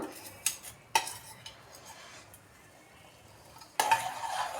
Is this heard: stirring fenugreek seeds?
yes